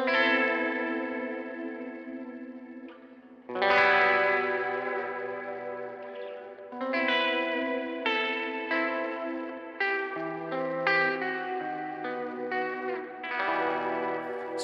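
Electric guitar through an effects pedal that mimics warbling old VHS tape, heard with big reverb: sustained chords and picked notes wobble in pitch, each swelling and ringing out under a chorused, slightly distorted wash.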